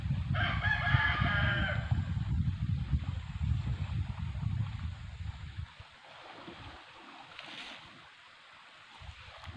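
A rooster crows once over a rumbling, wind-like background, then the noise quiets to a softer hush.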